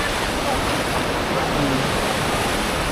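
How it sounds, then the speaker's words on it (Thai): Waves on the sandy shore at Laem Mae Phim beach in Rayong, Thailand, making a steady broadband wash of surf that fills the whole stretch without clear breaks between swells. "คลื่นของทะเลนี่ซัดน้ำทะเลมา"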